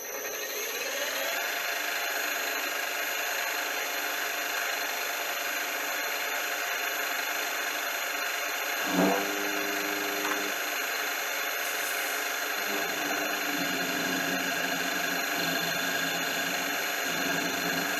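Hard steel being cut by milling cutters on a milling machine while machining a 1/4-19 BSP threading die: a steady, loud machine drone runs throughout with a dense band of whine, plus a brief clunk partway through.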